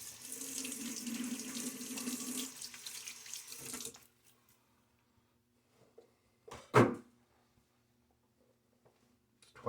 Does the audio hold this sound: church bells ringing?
no